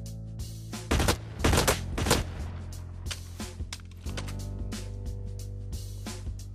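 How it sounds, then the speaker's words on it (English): Assault rifle tap-firing in the shooter game Blacklight Retribution: roughly seven sharp gunshots in short separated bursts, loud and close, over a steady low game hum with some lighter clicks. "this is what happens when you tap fire"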